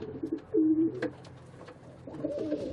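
Pigeons coo at a contraceptive pigeon loft in Château-Gontier, France: two soft, close, throaty cooing phrases separated by a short pause, over faint outdoor background noise.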